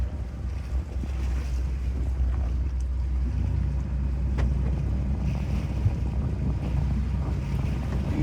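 Heavy boat traffic on open water during a commercial fishing trip comes through as a steady rumble of engines and hull noise, mixed with wind buffeting the microphone and the wash of waves. There is no talk.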